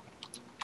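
Brief, quiet clatter of keys on a computer keyboard, a few light taps followed by a quick double keystroke at the end.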